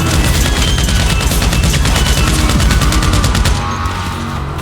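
Sustained rapid gunfire from a GTA 5 roleplay shootout, loud and continuous with rattling automatic bursts throughout and no pauses, easing slightly toward the end.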